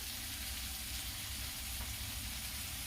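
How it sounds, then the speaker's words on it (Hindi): Coriander powder and Kashmiri red chilli roasting in oil on a low flame for kadhi: a dense, steady sizzle and crackle, loud and continuous throughout, with no talk. "धनिया पाउडर और कश्मीरी लाल मिर्च डालूंगी। दोस्तों इसे 1-2 मिनट में भून ली हूँ।"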